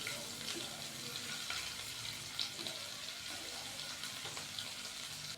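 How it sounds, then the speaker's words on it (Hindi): Ginger-garlic paste fries in a pan with a soft, steady sizzle and faint crackles, quiet and continuous with no talking. "तो हमने इसको जस्ट 30 सेकंड के लिए फ्राई करना है हल्का सा, ताकि अदरक लहसुन का जो पेस्ट है उसका कच्चापन खत्म हो जाए।"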